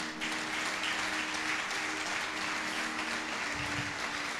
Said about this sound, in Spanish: ¿Cuánto le aplauden esta noche al Señor?